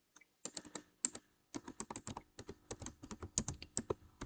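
Steady bursts of typing on a computer keyboard while entering data into SPSS, crisp close key clicks in uneven clusters with short pauses between, no talking.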